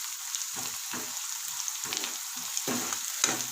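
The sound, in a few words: masala frying in a pan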